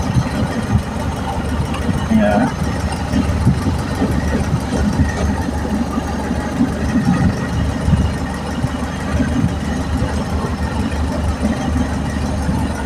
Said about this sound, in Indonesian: Nah, ini mesin sudah hidup.